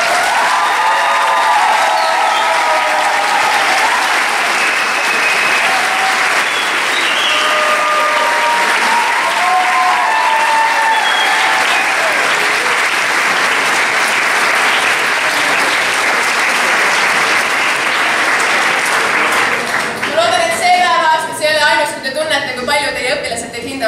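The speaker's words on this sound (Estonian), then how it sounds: "ma palun kõigilt õpilastelt ühe suure aplausi" Students give a long round of applause for their teachers at a school Teachers' Day event, loud sustained clapping from a large group with voices and some cheering mixed in, then talking takes over near the end.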